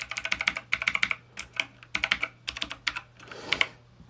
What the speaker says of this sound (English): It's about as clicky and noisy as I expected it to be.